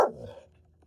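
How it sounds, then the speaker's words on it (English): A single sharp bark from Jedi, a pet dog barking at the neighbours, close and loud, fading quickly into a quiet room. "my boy Jedi is barking at our neighbors again"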